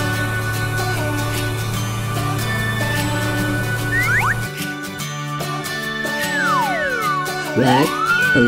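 Electronic siren tones from a toy red police car wail and sweep up and down over a buzzy jingle, fairly loud and close, with no talking.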